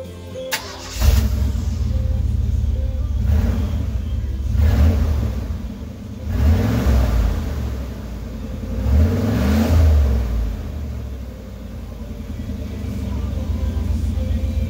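A 1996 Chevy 1500 truck engine running without a muffler, loud and close, with several rising and falling revs over a raw, deep idle rumble.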